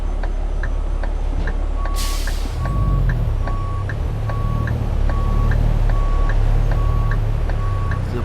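Traffic around a car driving through an intersection, with a loud steady engine and road rumble, a truck's reversing beeper pulsing in a regular rhythm, and a sharp hiss of air brakes partway through; no talk.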